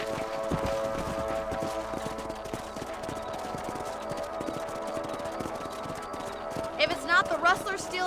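Steady clip-clop of horse hooves at a trotting rhythm over layered Red Dead Redemption game music, with a brief whinny-like flourish near the end.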